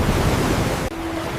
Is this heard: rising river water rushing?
yes